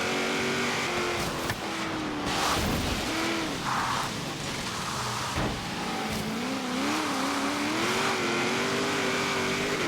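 Racing cars in Forza Horizon street racing, with a Mustang, Corvette, SL and Manta among them: engines rev and climb through gears in steady whines while rivals pass close by, tires briefly squealing, loud and continuous with no talk.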